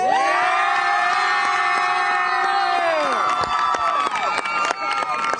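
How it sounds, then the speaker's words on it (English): A packed crowd cheers at a high school football game, a loud continuous roar of shouts and whoops with scattered claps that carries on throughout and gets choppier toward the end. "Let's hear a big cheer while we send it back up to the broadcast booth."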